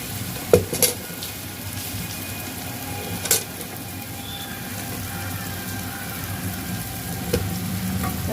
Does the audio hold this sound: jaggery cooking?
yes